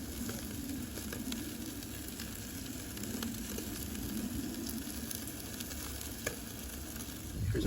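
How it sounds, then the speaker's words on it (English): Meat sizzling steadily on a Magma kettle gas grill fuelled by small one-pound propane cylinders aboard a kayak, with juices flaring; a continuous close frying hiss runs the whole time, with a few faint pops. "Still cooking a little bit on the juices flaming up"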